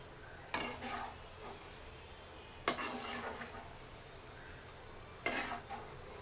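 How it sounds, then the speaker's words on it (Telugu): Cabbage manchurian pieces fry in a pan over a medium flame, with a soft steady sizzle broken by three sharp stirring scrapes spaced a few seconds apart. "మీడియం ఫ్లేమ్లోనే పెట్టుకొని ఒక 5-10 నిమిషాలు వేయించుకున్నారంటే మొత్తం చక్కగా వేగిపోతాయి."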